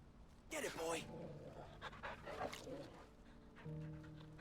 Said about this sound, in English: I pet the dog.